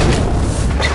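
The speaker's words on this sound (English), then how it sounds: "Detonate charges 21 through 29." A loud, close detonation of explosive charges fills the moment with a sustained, rumbling boom and no voices over it.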